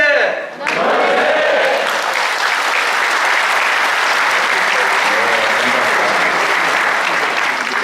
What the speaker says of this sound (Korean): 제가 도시재생하면 문화재생 하면서 박수 치면서 오늘 행사를 시작하겠습니다